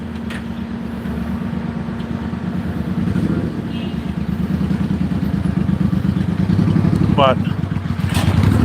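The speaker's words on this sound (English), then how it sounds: "Motorcycle on the sidewalk." A motorcycle on a city sidewalk at 180th Street and Audubon Avenue, its engine running steadily close by with a low rumble and clattering street noise around it, while someone talks over it.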